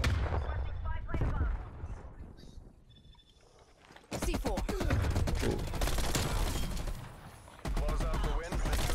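Rapid bursts of gunfire from a MAC 10 setup in Black Ops Cold War, dense overlapping shots loud and close, with a quieter gap in the middle before the shooting resumes.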